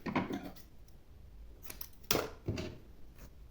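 Scissors cutting crochet yarn, a few quiet close snips and clicks in sparse bursts over a faint, still background.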